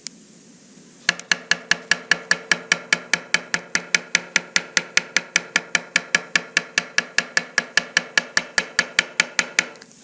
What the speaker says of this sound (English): So I'm going to give it a coin tap inspection.